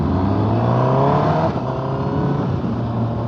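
A 2017 Honda CBR1000RR motorcycle engine revs loudly up close, a steady high whine climbing then easing off around the midpoint, continuing at a lower roar.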